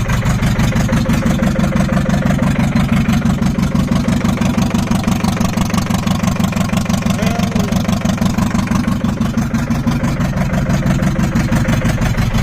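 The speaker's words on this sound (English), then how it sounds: "Obviously when I turn the key off, the engine keeps running." A Ford Transit van engine idles steadily after its first start, with a low, even rumble and a fast regular rhythm throughout, loud and close, with no voices.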